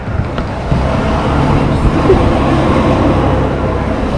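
Strong outdoor wind buffets the microphone in a dense, continuous rumbling roar that swells with a few gusts, loud and close throughout.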